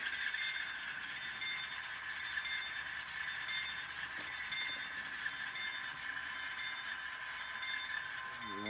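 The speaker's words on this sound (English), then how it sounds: "we'll come back again with the locomotive" A model railroad locomotive runs on an industrial-area layout with a steady, continuous hum and rolling clatter at close range, a brief sharp tick near the middle and a rising whine at the very end, no voices.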